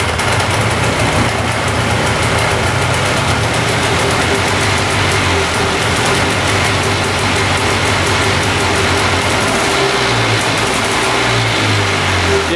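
A 6x6 ATV engine held at raised idle, a loud, steady mechanical drone with a faint rattle, running unchanged throughout close to the machine.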